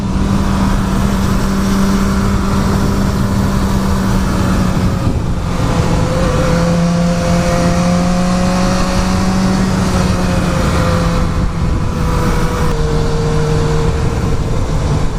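A BMW S1000R motorcycle engine held in third gear on Angeles Crest Highway, a steady close drone that rises and falls as the rider rolls on and off the throttle, with wind rush throughout.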